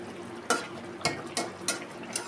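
Fish frying in a pan is stirred, giving about five sharp scraping strokes at an uneven pace over a soft, steady sizzle close by.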